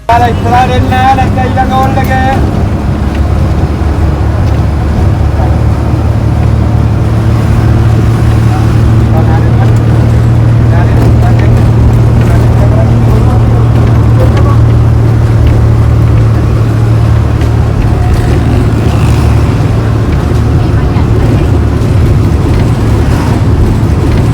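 A crowded public bus in Sri Lanka drones along with a loud, steady engine rumble and road noise throughout, a brief horn-like tone near the start and muffled passenger chatter under the din.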